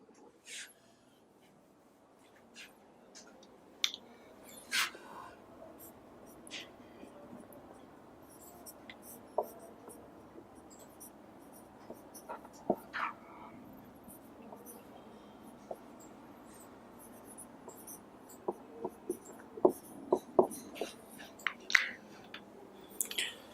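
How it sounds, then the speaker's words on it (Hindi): Marker or chalk writing on a classroom board during a physics lesson, heard as faint, irregular scratches and taps spread across a quiet room with no talk. "मिटा दूं इसे, ऊपर लिख देता हूं"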